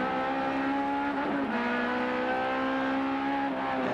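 Ford Sierra race car at the 1988 Bathurst race, a loud, high engine whine that dips sharply at a gear change midway and then climbs steadily again.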